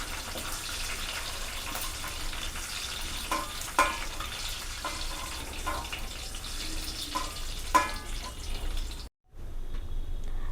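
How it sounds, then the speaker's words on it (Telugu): Ridge gourd pieces fry in hot oil in a pan, with a continuous close sizzle and scattered clicks of stirring. The sound drops out briefly for a moment near the end. "ఇప్పుడు బీరకాయ ముక్కలు వేసేస్తున్నా"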